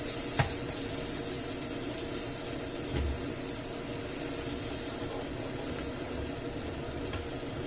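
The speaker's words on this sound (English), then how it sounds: "So mixing it with the oil, obviously it's going to sizzle." Paprika and garlic sauce sizzling in oil with added water, a quiet, steady hiss and crackle with a few soft clinks, no talking.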